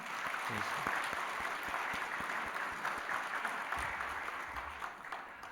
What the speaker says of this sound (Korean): 감사의 박수 한번 드리겠습니다